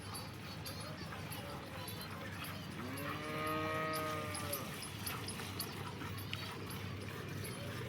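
Local Banaskantha cows lowing on a farm, one drawn-out moo rising clearly above steady background noise and other faint farm sounds.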